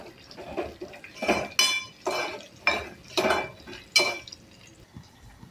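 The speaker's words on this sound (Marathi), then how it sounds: "व्यवस्थित लालसर होईपर्यंत परतायचा आहे कांदा" Sliced onion stirred in a pan, with a run of distinct metallic clinks and scrapes from a utensil against the cookware at an uneven rhythm, close and moderately loud, with no voices.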